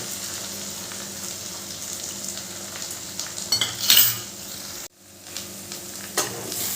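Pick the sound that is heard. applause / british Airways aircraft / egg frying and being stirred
egg frying and being stirred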